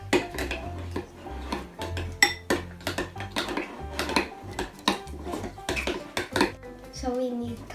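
Glue and baking powder slime being stirred in a bowl, with rapid irregular clinks and taps of a utensil against the dish, fairly close, alongside children talking.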